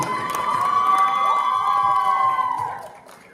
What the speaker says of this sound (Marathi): जोरदार टाळ्या पुन्हा एकदा त्या टीमसाठी